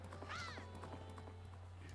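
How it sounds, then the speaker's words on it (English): Epona, the horse in the video game The Legend of Zelda: Majora's Mask, gallops in quick clip-clop hoofbeats and gives a short whinny near the start, fairly close and alone with no talk. "we finally have our horse back in this game"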